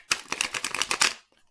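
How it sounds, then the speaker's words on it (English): Large tarot cards are shuffled in a quick riffle of rapid, evenly spaced flicks lasting about a second, close and crisp with no voices. "I can shuffle this."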